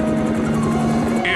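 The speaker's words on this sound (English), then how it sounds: "More dark choppers." Cartoon helicopters flying, a steady chopping rotor thrum with pulsing low beats running under talk throughout the short stretch.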